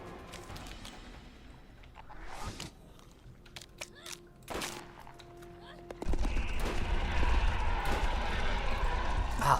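A weapon fires in Borderlands: scattered sharp gunshots in quick bursts, separated by short gaps, then a louder sustained stretch of rapid fire and effects near the end, with a voice speaking at points.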